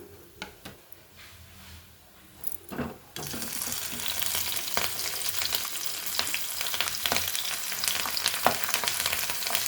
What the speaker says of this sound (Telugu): పచ్చిమిర్చి వేగించుకుందాం.